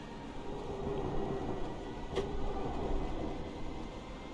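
A Class 320 train passes in Train Simulator Classic, heard from a Class 314 cab: a steady, fairly quiet rumble of the train running, with one brief, sharp burst midway.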